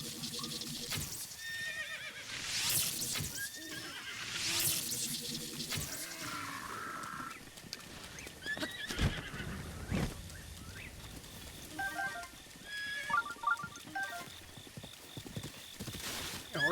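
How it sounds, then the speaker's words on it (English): A horse in the video game Zelda: Breath of the Wild neighs several times, and its hooves clip-clop in bursts. A voice talks now and then over the game sounds. "Come here, horse."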